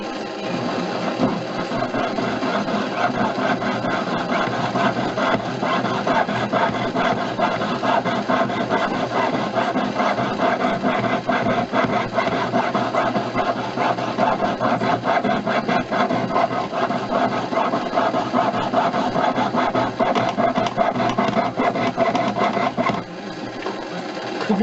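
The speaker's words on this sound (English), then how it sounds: "time to start sawing" Continuous rhythmic rasping of a hand saw cutting through wood, steady back-and-forth strokes close up for a long stretch.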